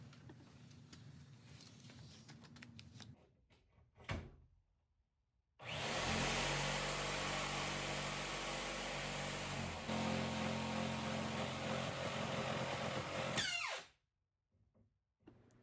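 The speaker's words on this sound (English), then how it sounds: "then I'm going to take my jigsaw and cut it off" Jigsaw blade cutting through solid wood on a piece of furniture being modernized, a loud sustained buzzing run of about eight seconds that starts and stops abruptly, with quieter workshop sounds before and after.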